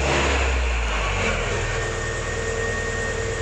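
A Mazda MX-5 Miata engine starting and settling into a steady idle right after an oil change, a loud continuous mechanical drone with low rumble throughout, no talking.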